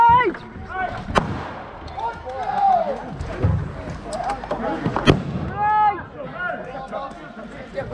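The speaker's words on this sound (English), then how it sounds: "Grenade." An airsoft grenade goes off during an outdoor game among buildings, a sharp bang amid scattered gunfire pops and shouting players talking over the action.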